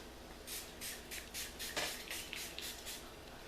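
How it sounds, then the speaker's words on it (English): Setting spray mists onto a face in about eight quick, soft hissing bursts close by, with a brief rustle partway through. "I'm gonna go in with a light spray again."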